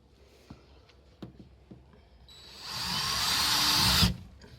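An electric drill whines up and runs steadily for about two seconds, boring through a door close by for a digital smart deadbolt install, after a few soft knocks.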